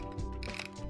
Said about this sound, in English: turn the film advanced wheel several times until it stops turning and press the shutter button